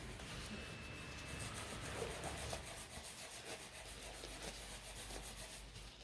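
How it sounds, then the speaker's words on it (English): Soft, close scratchy rubbing of chrome powder into a gel nail with a fingertip in a nail salon, faint repeated strokes with no voices. "we are gonna rub the chrome here as well"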